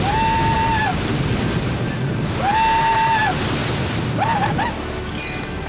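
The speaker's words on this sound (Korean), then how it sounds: "지금 파도가 사방으로 엄청나게 높이 치고 있어요" Strong ocean waves surge against coastal rocks in Western Australia amid heavy wind, a constant loud roar of surf and wind buffeting the microphone, with brief whistling tones rising over it.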